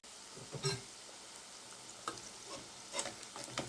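Wheat vada (Kothumai vadai) frying in hot oil, a soft steady sizzle with occasional sharper pops and crackles, faint and close, without talk.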